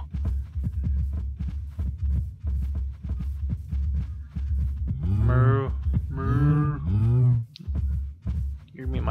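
Several drawn-out, low Minecraft cow moos rise in the second half, one after another, over a steady low throbbing game background.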